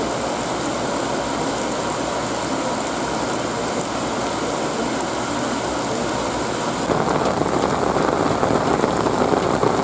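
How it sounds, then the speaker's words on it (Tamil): Heavy evening rain in Chennai pours steadily in a dense, unbroken hiss that grows a little louder near the end, with a faint low engine-like hum underneath. "நேற்று மாலை கனமழை பெய்தது"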